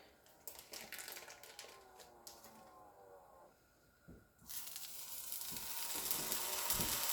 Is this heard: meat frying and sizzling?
yes